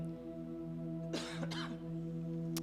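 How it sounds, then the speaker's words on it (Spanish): Two quick coughs, close by, over a steady low electrical hum. "espero que esta tosecita me pueda dejar en paz"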